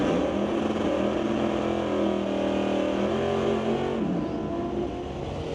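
A Mustang and a Chevelle at an NHRA drag race, engines droning loud and close with a layered, sustained roar that shifts pitch and eases slightly at the end.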